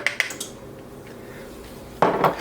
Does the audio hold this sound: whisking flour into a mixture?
yes